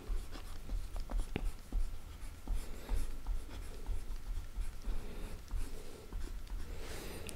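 Handwriting while solving an integral math problem, close pen-on-paper scratching in quick irregular strokes and taps, steady throughout and moderately loud with no talking.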